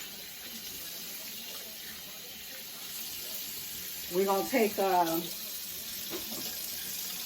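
Water runs steadily from a tap with a soft hiss while hands are washed, and a brief voice speaks over it partway through.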